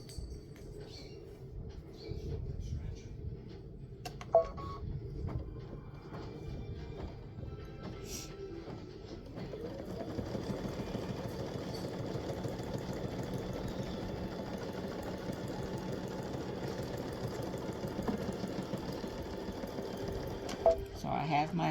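Embroidery sewing machine stitching a regular straight stitch at slowed speed, a continuous close mechanical whir and rapid needle rattle that becomes steadier and fuller partway through, with a voice speaking over it.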